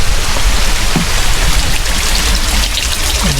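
Water running steadily into a storm drain on a city street, a continuous broadband rushing and trickling that stays even and fairly loud throughout, with no voices.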